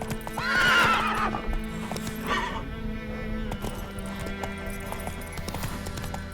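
Roach, a horse in Witcher 3, whinnies loudly up close, then clip-clops along with hooves beating in a steady galloping rhythm under game ambience, with a second shorter neigh partway through.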